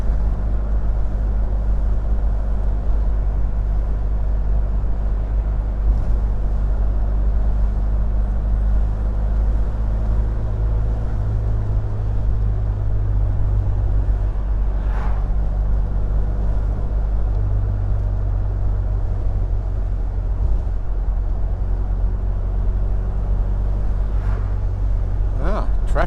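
A Triumph Herald 13/60 car drives along country roads in mid-Norfolk, its engine droning steadily with deep low rumble and road noise throughout, heard from inside the cabin.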